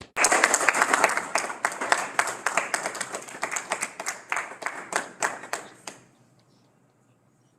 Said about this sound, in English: we need to give all of these people a virtual round of applause